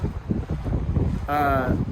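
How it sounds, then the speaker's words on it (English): Strong wind at Lake Tahoe roars and buffets the microphone in steady gusts, with a brief tonal hum joining near the end. "It is very windy"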